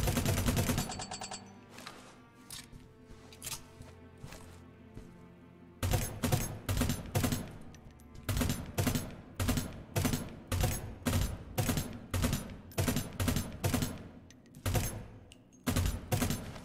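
A Space Bolt AK in a video game fires on full auto, a rapid burst of crackling shots at the start, a brief lull with scattered clicks, then a long steady stream of loud, evenly spaced rounds.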